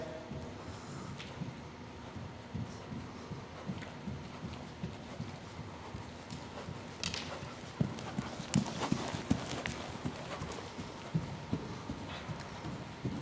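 Hooves of a 167 cm gelding cantering during show-jumping training, a steady three-beat clip-clop on arena footing, fairly near, continuous throughout, with a brief whinny-like sound and some faint background noise.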